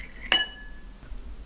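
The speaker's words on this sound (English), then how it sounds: "I stir it well and leave it to curdle." A spoon clinks once, sharp and ringing, against a glass holding milk and apple vinegar, then the tone fades into quiet room hiss.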